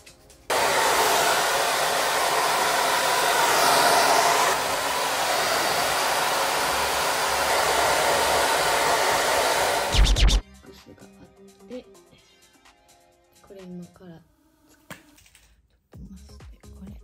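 A hair dryer blows loud and steady, drying hair after a treatment is applied, running continuously for about ten seconds before switching off abruptly, followed by quiet rustling and faint handling noises.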